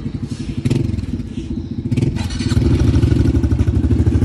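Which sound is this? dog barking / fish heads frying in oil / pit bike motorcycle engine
pit bike motorcycle engine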